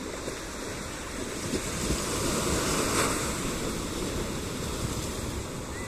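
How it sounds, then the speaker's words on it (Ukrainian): Steady roar of ocean surf washing in continuously, with a broad hiss of breaking waves swelling slightly midway and some wind noise on the microphone. "Ну, і послухаємо трошки океану."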